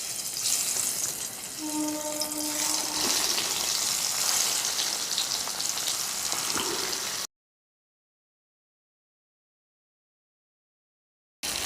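Snake gourd pieces drop one by one into hot oil for frying, raising a loud steady sizzle with a brief tonal beep partway through. The sound cuts to silence, then the sizzle briefly returns at the end.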